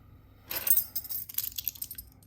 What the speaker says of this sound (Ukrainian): Звичайні ключі.